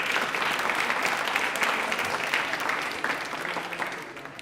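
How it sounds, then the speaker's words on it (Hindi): A crowd at a railway quiz event applauds in a dense, continuous wash of many hands that holds steady and then slowly fades toward the end. "एक बार तालियां जोरदार हो जाए इस ट्रेन के लिए भी"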